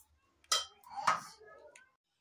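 Metal utensils clink and scrape against a pressure cooker as boiled potatoes and lotus stems are lifted out, a few close clattering knocks over about a second.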